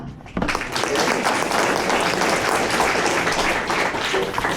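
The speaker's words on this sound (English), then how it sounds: "give him a big round of applause" Loud audience applause at a tech talk on AI for enterprise developer workflows, bursting in abruptly and holding as a dense, close wash of clapping for several seconds.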